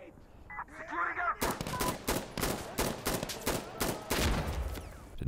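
Rapid gunfire in the video game Insurgency: Sandstorm begins after a quieter opening. Loud, close bursts and fast volleys continue for several seconds.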